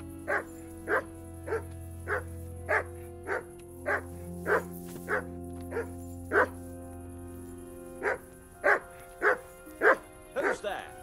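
A dog barking in the medieval video game Kingdom Come Deliverance, a steady run of about fifteen sharp, evenly spaced barks, near and loud, over low game music and ambience.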